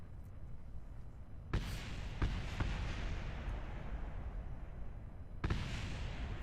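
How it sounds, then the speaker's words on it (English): Booming rocket explosions in Kerbal Space Program erupt over a continuous rumbling engine roar, with sharp bursts near the start and another heavy hit toward the end. "I hear explosions."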